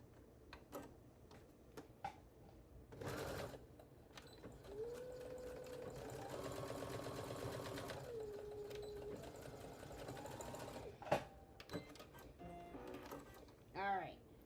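Sewing machine stitching across an embroidered accessory case, running in a steady sustained burst for several seconds amid scattered clicks and handling noises, with brief talk nearby.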